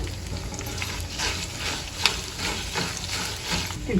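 A handful of curry leaves and turmeric frying in hot oil while being stirred, a dense continuous sizzle with soft scraping strokes and an occasional light clink, steady and close.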